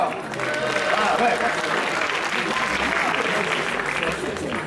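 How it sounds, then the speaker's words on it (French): A crowd at a live gaming tournament event applauds steadily for several seconds, a dense, sustained wash of clapping with some voices and cheers mixed in. "on applaudit bien fort"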